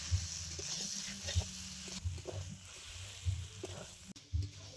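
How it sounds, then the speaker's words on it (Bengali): Jackfruit and potato stir-fried with spices in a pan, giving a soft steady sizzle with low thumps and scrapes from a spatula stirring at a regular pace. "মশলার সাথে খুব ভালো করে আরো একবার কষিয়ে নেব আলু এঁচড়।"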